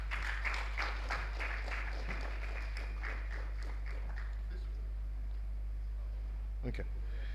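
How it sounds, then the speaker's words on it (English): Audience applause for a panelist at a panel discussion on climate change and the green economy in Nigeria: a burst of scattered clapping that thins out over several seconds, with a room murmur underneath. "Please, a round of applause for him."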